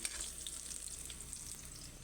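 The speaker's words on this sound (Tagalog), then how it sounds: "Pirito lang natin ng konti para ano lang, para hindi siya madurog" Banana pieces fry briefly in a pan, giving a soft, continuous sizzle and crackle heard up close and quietly with no voices.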